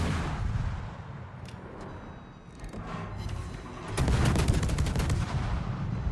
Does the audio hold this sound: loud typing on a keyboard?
no